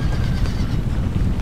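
Cavalry horses charging in Empire Total War, a steady rumbling mass of hooves and neighing close and loud, with a windy roar, no pauses.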